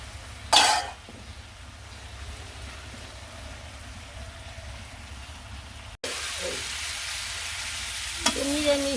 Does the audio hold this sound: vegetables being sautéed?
yes